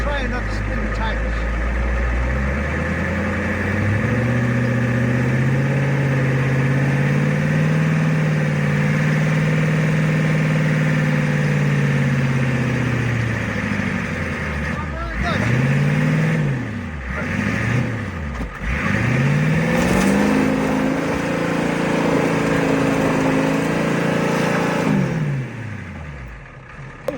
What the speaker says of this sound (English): I was trying not to spin the tires.